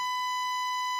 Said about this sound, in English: It's like a loud ringing.